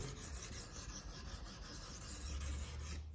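Steady rasping scrape of a wood chisel sharpened by hand on a sharpening stone, continuous back-and-forth rubbing, close and quiet, with no voices.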